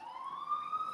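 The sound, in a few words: ambulance sirens in New York street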